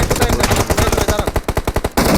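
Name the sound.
gunfire in a battle royale video game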